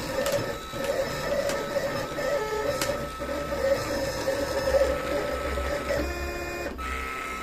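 A vinyl cutting plotter cuts out a logo for heat transfer vinyl, a close, steady mechanical whir with a repeating tone and occasional clicks as the carriage moves, no voices.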